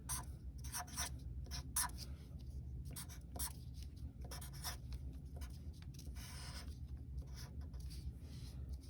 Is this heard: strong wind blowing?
no